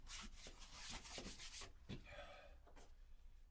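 A hand rubs finish into the seams and edges of an acoustic guitar body with brisk, scratchy, repeated strokes up close, quieter and smoother toward the end.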